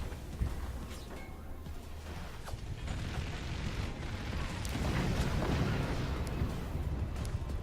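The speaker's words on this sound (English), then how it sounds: "A lot of explosions going on in this, so because of the miniguns just shredding through like everything." Explosions and rapid minigun fire from the physics-based strategy game Forts, a dense continuous barrage of booms and mechanical rattling that swells louder toward the end, with no talk over it.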